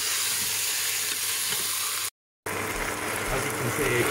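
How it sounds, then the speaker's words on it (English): Chopped steak frying in a Breville Sage Fast Slow Pro combi slow/pressure cooker, a steady close sizzle with soft stirring scrapes, briefly cut off before resuming. "we'll put some chopped steak in. and we'll do the same with that. Give it a bit of a stir around"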